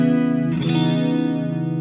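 An electric guitar through a Swindler Effects The Gulf chorus pedal sounds one sustained, wavering chord with a soft pick attack partway in, shimmering and swirling as it slowly fades.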